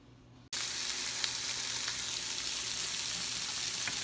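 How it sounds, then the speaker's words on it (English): Loud, steady sizzling of chicken frying in a pan on too-high heat starts abruptly and continues unbroken, with occasional small pops. "Got the chicken sauteing. It's more like frying because I had it up too high."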